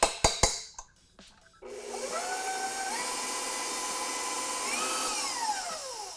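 An electric mixer blends butter and sugar for cookie dough. A few knocks come first, then a steady whirring drone whose pitch rises and falls as the beaters labor, close and loud with no talk.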